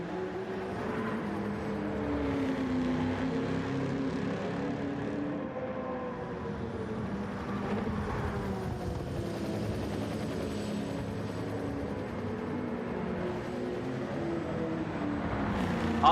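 A 6.8 litre car engine in the Gran Turismo 7 racing game drones steadily and loudly throughout, with shifting pitch as revs rise and fall, forming a continuous engine hum with no speech.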